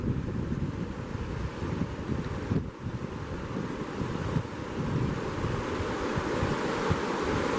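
A light breeze blows up the Cispus River at a gravel-bar campsite, a soft steady rush of moving air and wind buffeting the microphone that swells gently without any voices.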